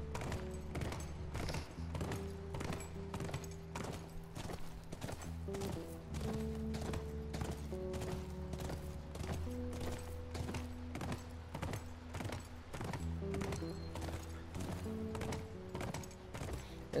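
Horse hooves clip-clop in a steady, rhythmic trot throughout in the video game The Last of Us Remastered, mixed with faint tonal music, the footfalls crisp and fairly close.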